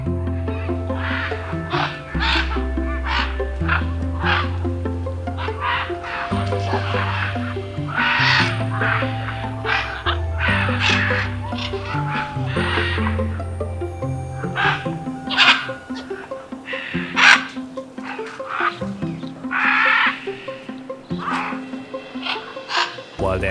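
Scarlet macaws in Belize near Red Bank giving harsh, raucous honking calls, repeated in a constant chorus of near and farther squawks.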